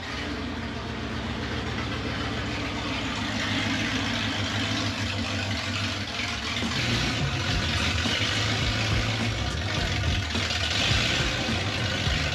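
A loud, rumbling 1980 Ramcharger engine runs without mufflers, its deep throaty roar steady and close throughout, growing slightly rougher partway through.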